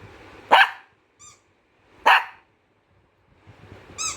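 A dog barks twice, sharp and close, with a quiet pause between, and a third bark starts just at the end.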